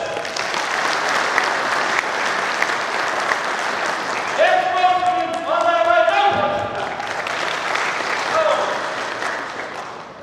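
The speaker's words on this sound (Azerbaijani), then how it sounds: "sizdən sürətli alqışlar gözləyirəm" Audience applause at a ceremony for Azerbaijan's Police Day and the police's 108th anniversary in Masallı, a sustained crowd clapping with a brass tune rising through the middle.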